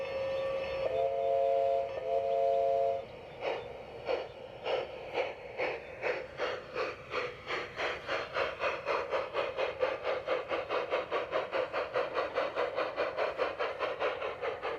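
A model garden railroad train runs past a miniature station, opening with a short two-tone whistle before a steady rhythmic clacking of wheels over rail joints builds and quickens, close and fairly loud with no talking.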